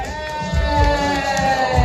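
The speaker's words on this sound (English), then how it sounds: "Let's give them all a huge, huge round of applause and clap the noise." Large audience cheering and whooping at a live event in San Francisco, a loud dense crowd roar with some shouts rising over it, continuous for a couple of seconds.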